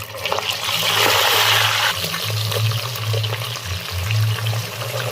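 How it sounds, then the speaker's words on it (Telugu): Chicken pieces for a chicken pickle are dropped into hot oil, setting off a loud, steady sizzle and crackle that holds throughout without a break. "ఆయిల్ హీట్ అయిన తర్వాత చికెన్ వేసుకోండి అందులో"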